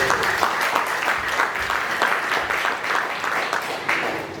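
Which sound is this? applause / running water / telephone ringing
applause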